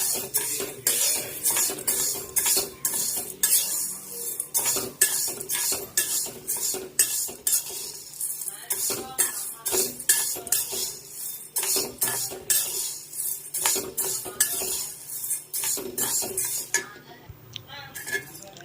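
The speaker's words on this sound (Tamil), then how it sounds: "அப்புறம் நம்ம என்ன பண்ணுறோன்னா பச்சைப்பயிரை இளவரப்பாக வறுக்க போகிறோம்" Green gram being dry roasted in a pan for a homemade health-mix flour, stirred with a utensil, giving steady rhythmic scraping and rattling of dry lentils against metal, loud and close throughout with no talk.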